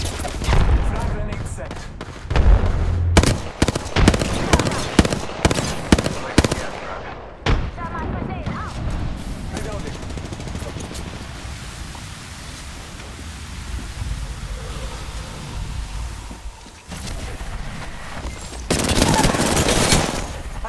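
Dense gunfire in the Apex Legends video game, loud close bursts of rapid shots early on, then a sustained noisy stretch under game effects, with another burst at the end.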